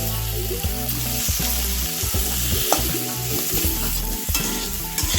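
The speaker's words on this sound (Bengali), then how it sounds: "এখন আমি ভালো করে আলুগুলোকে হলুদ লবণ দিয়ে ভেজে নেব।" Potato chunks frying with turmeric and salt for a cauliflower curry, a steady close sizzle broken by repeated stirring and scraping of a spatula in the pan, with no talking.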